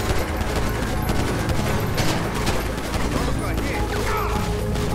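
Rapid bursts of gunfire ring out during a GTA 5 Online gang war mission, dense and continuous beneath game noise, with someone talking over it.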